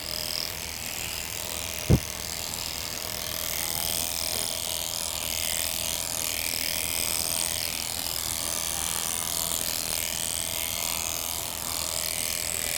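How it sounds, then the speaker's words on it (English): Electric clippers shearing wool from a sheep's belly give a steady, close buzzing drone that runs unbroken throughout, with one sharp click near the start. "Shearing the belly right now"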